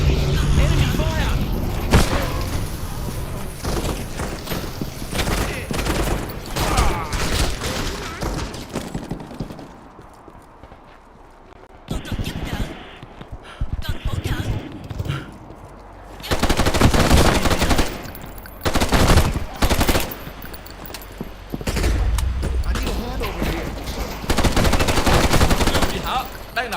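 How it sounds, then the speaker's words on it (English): Rapid bursts of gunfire from enemies in a first-person shooter game crackle loudly and nearly nonstop, with short lulls between volleys and someone talking over parts of it. "Enemy fire."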